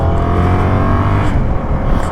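A 2024 Yamaha MT-07 motorcycle engine while riding, a loud, close, continuous buzzing drone with a steady throb and slight shifts in pitch.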